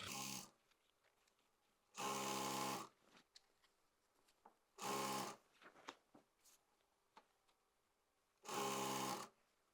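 A sewing machine stitches gharara fabric in three short, loud bursts of rapid whirring separated by quiet gaps, with faint handling noises of the cloth in between.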